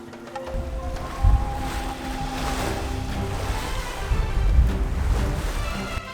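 A sailboat is under way at sea, with waves rushing and washing past the hull and steady wind gusting across the microphone. A faint low hum and creaking sit underneath, and no one speaks.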